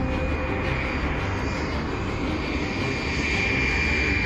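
Cartoon jet plane roaring past at speed, a steady loud engine drone that holds throughout with no voices.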